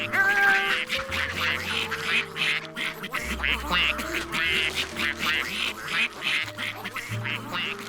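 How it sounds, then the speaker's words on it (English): Cartoon ducks quacking in a lively run of repeated nasal quacks over light background music, loud and close with no talk. "Ducks!"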